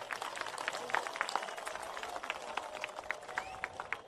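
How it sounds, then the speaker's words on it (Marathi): An audience at a Dhamma morning event claps in a brisk, scattered round of applause, moderately distant and fairly faint, with a murmur of voices underneath. "एक मोठा टाळ्यांचा गडगडाट होऊन जाऊ देत"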